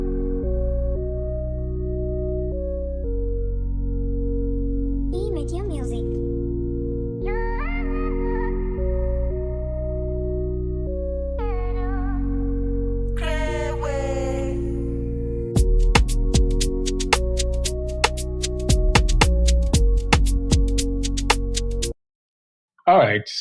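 Afrobeats song, mixed track with steady bass and chords, vocal runs entering at intervals, then busier percussion clicks toward the end before a brief dropout.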